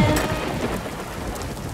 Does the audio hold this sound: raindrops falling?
yes